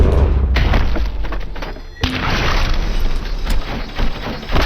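Flashbang detonation in the RoboCop: Rogue City video game, a loud booming blast followed by dense ringing noise and a second heavy impact, with scattered clatter as the noise lingers.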